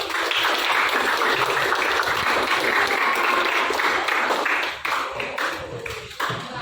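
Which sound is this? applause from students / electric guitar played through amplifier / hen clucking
applause from students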